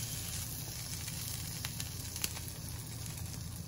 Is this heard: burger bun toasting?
yes